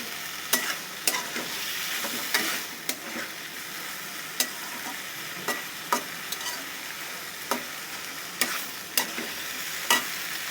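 Shrimp and winter vegetables sizzling in a little oil in a pan, with steady frying hiss broken by sharp scrapes and clacks of a spatula stirring at irregular intervals, close and moderately loud, no talking.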